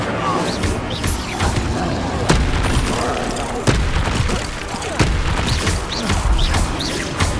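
Incendio fire spell cast in Hogwarts Legacy, heard as sharp crashing bursts and whooshes recurring through busy battle noise, with a voice speaking over the action.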